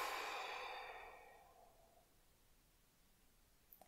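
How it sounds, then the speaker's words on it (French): A slow, breathy exhale during a sophrology breathing exercise, strongest at the start and fading out over about two seconds, then near silence. "Je reviens au centre, j'expire."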